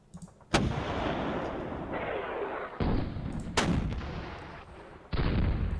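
Artillery fire from 25-pounder guns shelling bunkers in the Panzer Battles North Africa 1941 wargame, several heavy booming shots in succession, each with a long rumbling roll that overlaps the next, loud and close.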